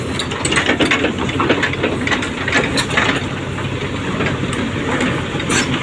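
A Komatsu excavator engine runs steadily at close range, a continuous loud rumbling drone with a mechanical hum and no pauses throughout.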